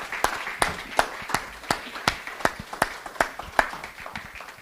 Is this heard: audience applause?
yes